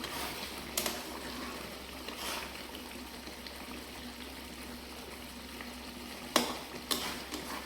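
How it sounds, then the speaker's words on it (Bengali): Chicken and potato curry stirred in a pan with a little garam masala powder, a faint soft sizzle under a few sharp spoon scrapes and clinks, no talk. "এটাকে ভালো করে নাড়িয়ে নিচ্ছি।"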